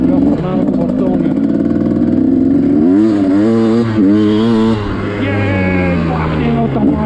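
A motorcycle engine fitted with a smart carburetor on its first test run revs up and down close by, loud and continuous, with the pitch climbing and dropping through several throttle blips.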